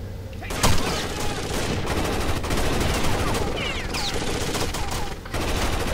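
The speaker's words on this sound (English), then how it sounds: "I have fire coming from four different directions" Sustained gunfire from several directions in the video game Rainbow Six Vegas 2, dense bursts of shots running throughout, loud and continuous, with players' voices faintly mixed in.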